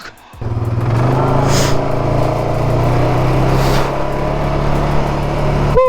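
An ADV motorcycle on a Ladakh ride starts up and rolls away, its steady engine drone holding close and loud for several seconds, with a short rise in revs near the end.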